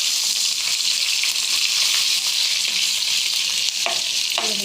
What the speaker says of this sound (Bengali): পেঁয়াজটাকে ভালো করে ভেজে নিতে হবে। দেখুন আমি কি করে ভাজছি পেঁয়াজটাকে